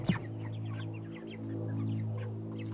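Cornish cross broiler chickens, about six weeks old, cluck and peep steadily at a farm over a constant low hum, with no talking.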